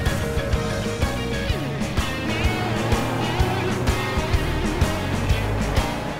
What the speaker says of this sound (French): Des échos de moteurs V8 dans la montagne, aucun doute, les pilotes ont repris la route.